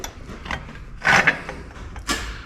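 Metal clanks and ratcheting as U-bolt nuts are snugged down on a Curtis canopy's ROPS mount for a Massey Ferguson GC1725MB sub-compact tractor, two short bursts close by with a louder clatter near the middle.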